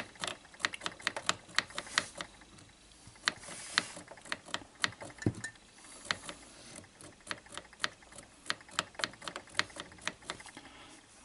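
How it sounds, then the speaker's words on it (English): The switch mechanism of a Sharp GF9191 cassette player is worked back and forth, producing a rapid series of sharp plastic clicks and ratcheting ticks, close and fairly quiet, with no talk. "And then work the mechanism back and forth."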